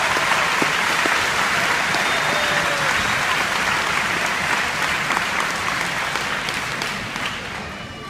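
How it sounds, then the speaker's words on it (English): Audience applause at a 2015 graduation ceremony, a broad steady wash of many hands clapping with some crowd noise, sustained throughout and tapering slightly at the end. "And now let's give them a round of applause."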